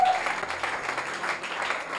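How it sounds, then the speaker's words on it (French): Applause from a church congregation at a Christian conference, a steady wash of many hands clapping at moderate loudness with no voices on top. "Et on peut acclamer par la grâce de Dieu"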